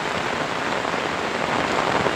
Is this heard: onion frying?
no